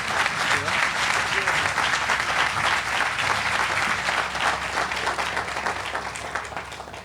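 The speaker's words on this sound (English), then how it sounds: "How about another round of applause for work happening over there, huh?" Sustained applause from the audience at a Louisville Urban League and Norton Healthcare press conference, a dense wash of clapping that continues steadily and fades slightly toward the end.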